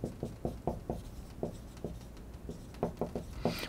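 Pen on paper taking notes in a high school chemistry lesson, a run of soft, close taps and scratches coming in short, uneven clusters with no voice.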